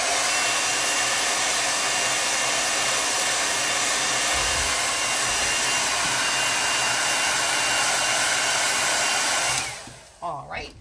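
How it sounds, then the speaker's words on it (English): A blow dryer runs loud and steady at close range while drying a Chalk Couture craft project, a constant airy roar that winds down and switches off near the end. "I'm going to use my blow dryer to give it a quick dry."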